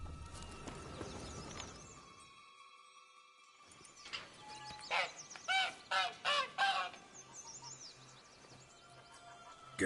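A caged goose-like fowl in the video game Witcher 3 honks in a quick run of loud, close calls, set over a low steady hum of game ambience.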